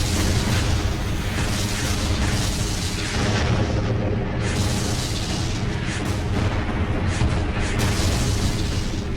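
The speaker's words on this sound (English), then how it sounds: "we were met with huge artillery fire" Artillery explosions from a WWII tank battle at Prokhorovka rumble in a dense, continuous barrage of heavy booms, loud and unbroken throughout.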